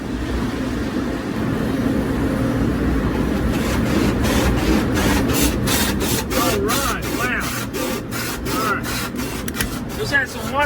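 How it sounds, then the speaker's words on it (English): High-pressure water jets hammering a 2021 Jeep Wrangler with a Sky One-Touch power top inside a car wash, a dense continuous rushing spray heard from inside the vehicle with voices talking over it. "we got high pressure going everywhere"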